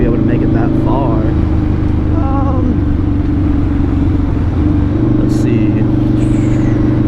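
A 2005 Harley-Davidson V-Rod cruiser rides along, its engine giving a steady low rumble with a shift in pitch partway through, while the rider talks briefly over it.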